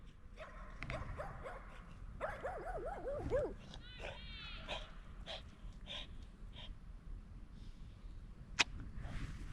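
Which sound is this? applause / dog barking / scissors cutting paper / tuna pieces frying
dog barking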